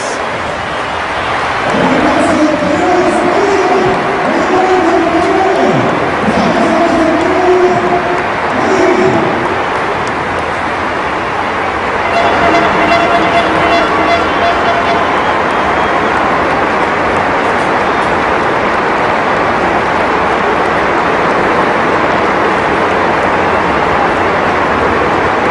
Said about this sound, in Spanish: Ahí está el minuto de aplausos